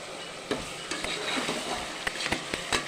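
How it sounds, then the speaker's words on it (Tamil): Ginger, garlic and onion sautéing in a pan give a soft, close sizzle with intermittent stirring scrapes and light clicks of a spoon against the pan. "இஞ்சி பூண்டு போட்டாச்சு அந்த வாடைக்கு கொஞ்சம் நேரம் நல்லா வதங்கணும்"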